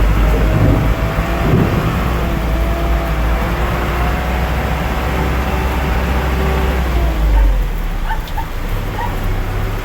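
A torrential downpour hammers a flooding road in the Philippines with a dense, continuous hiss and low roar that barely lets up, while faint passing-vehicle hums drift underneath.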